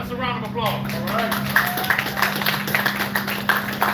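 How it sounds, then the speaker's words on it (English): An audience at a peace festival applauds a panel of speakers, with sparse, fairly evenly spaced claps following a voice and continuing over a steady background hum. "Let's give our panelists a round of applause, all right?"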